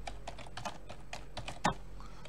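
Typing on a UK computer keyboard makes a quick, irregular series of close, crisp key clicks, with one louder clack near the end over a quiet background.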